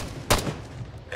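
A single loud gunshot in the Arma 3 military video game, a sharp close report with a short rumbling tail over a low ambient bed, and no talking.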